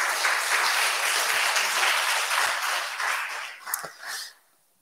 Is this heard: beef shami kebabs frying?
no